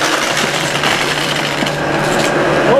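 A SEBO 9808AM Felix upright vacuum cleaner with a bypass motor runs steadily at close range, giving a loud, even whir that holds its level throughout with no gaps.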